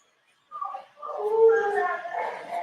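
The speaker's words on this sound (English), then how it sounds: "Oh, my dogs are making noise." Dogs howl and whimper indoors, a rising wavering howl joined by higher whines, moderately close and continuing for a couple of seconds after a silent start.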